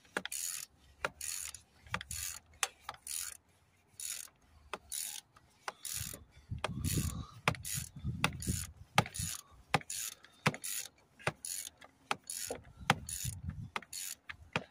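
Ratchet on a socket tightening the oil filter housing of a Peugeot/Citroën 1.6 HDi diesel engine during a service, a steady run of sharp repeated clicks in quick bursts, close and clear, with some low clunks between strokes.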